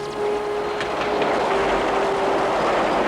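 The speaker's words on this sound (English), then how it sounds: "The train's moving!" A train rolls along in a dramatic occupation-era scene, producing a loud, steady rumbling wash with a sustained tonal hum and faint rhythmic clatter.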